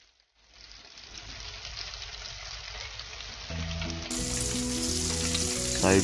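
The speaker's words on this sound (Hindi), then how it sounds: "तो अब हम चिकन को दोबारा मैदे के अंदर कोटिंग करके ऑयल के अंदर एक एक करके डालते जाएंगे।" Flour-coated chicken pieces drop one by one into hot oil, building from near silence into a loud, close, steadily growing sizzle, with background music rising underneath.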